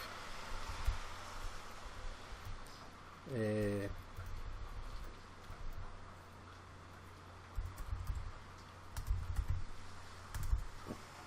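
Soft clicking of typing on a computer keyboard while C code is written, in short irregular bursts under someone talking, near and quiet.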